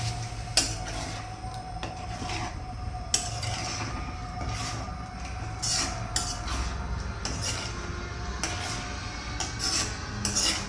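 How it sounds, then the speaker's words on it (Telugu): A spoon stirring salt and spices in a pan for paneer butter masala, with steady scraping and metallic clinks against the pan, rhythmic and close, with no talk. "ఒక 3 స్పూన్స్ సాల్ట్ వేసుకొని కలుపుకుందాం."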